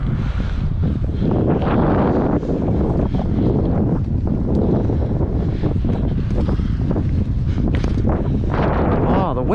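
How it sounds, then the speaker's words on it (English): Strong wind buffeting the microphone while riding a bike, a loud, continuous rumbling roar that persists throughout. "Oh, the wind."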